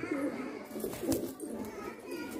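Pigeons coo in soft, repeated low calls close by amid background noise, a flock of pet pigeons let out of their loft in Tonk, Rajasthan.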